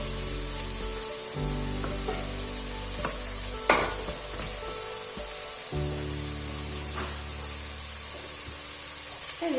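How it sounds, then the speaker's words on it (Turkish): Dry beans stirred in a pot, with sparse scraping and clinking strokes, one sharper knock, over a steady hiss and low hum, close and fairly quiet. "kuru fasulyemizi karıştırıyoruz"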